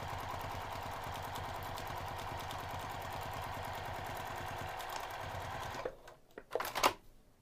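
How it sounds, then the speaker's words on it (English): A sewing machine runs a quarter-inch seam along the short ends of fabric, a steady close rapid stitching whir for about six seconds, then a few faint clicks and thuds. "we're gonna sew the short ends using 1/4 inch seam allowance."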